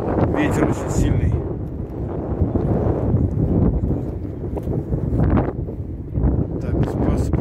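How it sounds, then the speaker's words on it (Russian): Strong wind by the Volga River in Tver buffets the microphone in a steady, heavy roar, with gusts swelling and easing throughout. "Ветер очень сильный."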